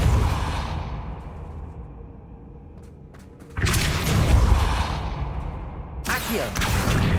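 Depulso repelling spell cast in Hogwarts Legacy: a sudden loud whooshing burst that swells and lingers, followed by a second strong blast a couple of seconds later over a low ambient game rumble.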